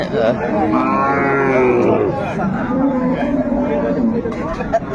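Cows and calves moo loudly and repeatedly at a cattle market, their long calls overlapping with the steady chatter of a busy crowd nearby.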